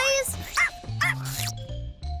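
Cartoon puppies yip and bark in quick, high bursts, several short calls close together over background music in the animated children's show Blaze and the Monster Machines.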